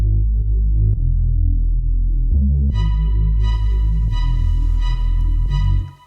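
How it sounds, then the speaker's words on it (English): A thick, sustained Reese bass layer drones low and steady in a drum and bass track, joined partway through by a bright tonal pad with faint ticking percussion on top, loud and continuous without voices. "I think this is a Reese"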